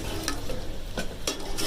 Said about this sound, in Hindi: ये मेरा मसाला भून गया, हम इसमें आटा डालते हैं